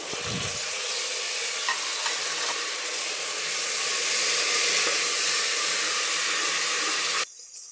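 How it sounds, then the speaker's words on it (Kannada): Onions sizzle and fry in a pan as potatoes and fresh green peas are added, a steady loud hiss with occasional soft clicks and stirring, ending in a sudden change near the finish; no talking. "ಈರುಳ್ಳಿ ಫ್ರೈ ಆಗ್ತಿದೆ ನಾನು ತೊಗೊಂಡಿರೋ ಆಲೂಗಡ್ಡೆನ ಸೇರಿಸ್ಕೊಳ್ತಾ ಇದ್ದೀನಿ ಹಾಗೆಯೇ ಬಟಾಣಿನೂ ಸೇರಿಸ್ಕೊಳ್ತಾ ಇದ್ದೀನಿ"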